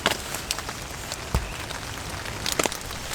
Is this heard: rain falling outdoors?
yes